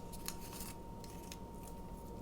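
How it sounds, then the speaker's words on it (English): Scissors snip through craft ribbon at an angle while a Valentine fold card is being made, a few quick close crisp cuts over a faint steady hum. "Get our scissors, cut that at an angle"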